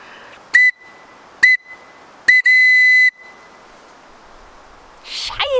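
Three sharp, loud whistle blasts, the first two short and the third held longer, each ringing out clearly against quiet outdoor background, followed by a rustle.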